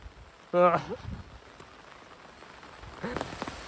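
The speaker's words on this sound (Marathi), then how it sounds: "पावसाने जोर मस्त वाढवला ना." Heavy rain pours down in a steady, soft hiss, broken by a couple of short bursts of nearby voices.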